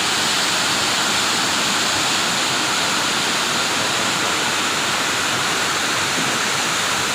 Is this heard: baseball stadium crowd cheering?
no